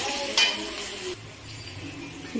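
Garlic chicken is stirred in a hot pan, with a sharp utensil clink near the start over a sizzling hiss that softens toward the end of the short burst.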